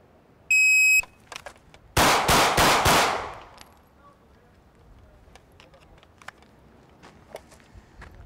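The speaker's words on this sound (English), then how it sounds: "Let's see what happens if I fire single shots." Single shots fired at targets in a tactical drill on multiple attackers: an electronic timer beep, then a tight run of four loud, sharp gunshots in about a second, followed by faint footsteps and shuffling.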